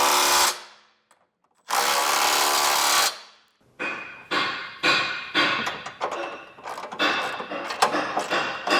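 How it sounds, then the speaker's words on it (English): A power tool with a 19mm socket tightens trailer hitch bolts on a 2020 Dodge Journey. Two long, loud whirring runs are followed by a series of short, rapid ratcheting bursts, all close by with no talk. "And with a 19mm socket, we'll get these tightened down."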